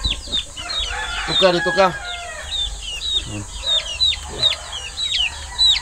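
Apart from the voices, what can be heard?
native chickens clucking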